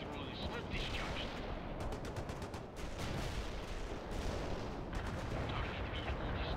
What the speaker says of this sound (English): Heavy artillery strike fire.